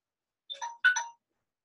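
Short electronic phone ringtone for an incoming call, two quick melodic bursts of tones, moderately loud, then silence.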